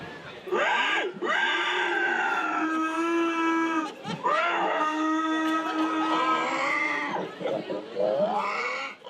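A person voices a run of long, strained pig squeals at a pig-squealing imitation contest, loud and sustained with brief pauses and rising cries near the end.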